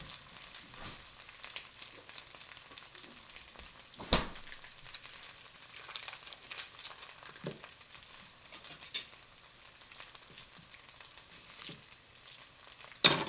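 Hashbrowns fry in butter in a pan with a steady, close sizzle, broken by a few sharp pops and occasional utensil scrapes, with no talking.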